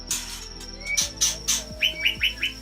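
A white-rumped shama sings nearby, giving a rapid series of bright, sharp whistled chirps and trilled notes that repeat in quick bursts over a low background hum, with no talking.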